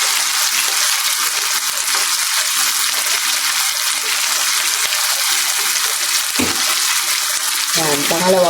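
Food sizzles steadily in a hot pan, a dense continuous frying hiss with occasional stirring scrapes, loud and close throughout, with a brief voice near the end.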